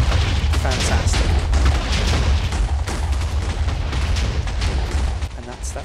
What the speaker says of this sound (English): that's number 9, dynamite from Vulcan's weapons mod